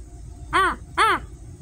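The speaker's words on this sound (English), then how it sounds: "Fish crows almost sound like they're playing little kazoos." Two nasal, harmonic fish crow calls in quick succession, each short and slightly kazoo-like, fairly close against a quiet background hum.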